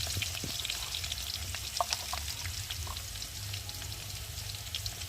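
Potatoes fry in a pan until reddish-brown, giving a steady close sizzle with scattered small pops and crackles and no talking.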